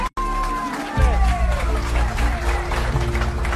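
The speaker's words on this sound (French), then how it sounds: "est-ce qu'on peut les applaudir pour ce qu'ils ont fait aujourd'hui?" After a brief break, a crowd bursts into clapping and cheering, loud and continuous, with voices mixed into the noise.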